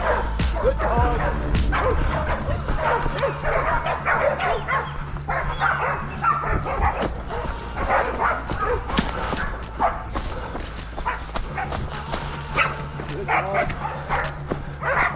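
Pig hunting dog barking and yipping repeatedly at a competition hunt, with whimpers mixed in, close and loud over a steady low rumble, with people talking throughout.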